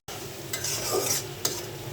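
Chopped onions sizzling in oil in a pan while cooking pumpkin leaves, a soft steady fry with two brief scrapes of a spoon stirring against the pan, close and without speech.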